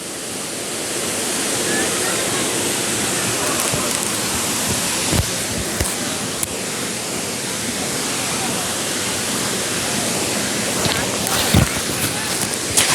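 A winter waterfall running with low flow gives a broad, steady rush of falling water, constant and fairly loud, with a few faint knocks and bumps over the roar.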